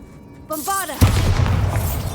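Bombarda blast spell in the Hogwarts Legacy video game breaking a curse: a voice calls out briefly, then a sudden loud boom erupts and rumbles on with crackling debris to the end.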